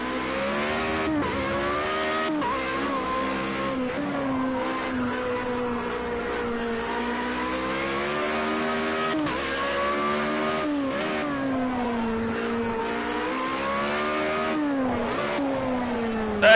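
Formula Renault race car engine in a Project Cars 2 race at Catalunya, revving loud and steady with rising and falling pitch through gear changes and brief downshift blips, continuous for the whole stretch with no talk.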